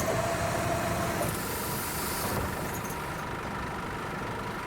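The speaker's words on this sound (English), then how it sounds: "Don't know if you can hear that engine noise." A bus engine in the simulator The Bus idles in a steady low rumble, with a brief higher hiss partway through, constant and moderately loud.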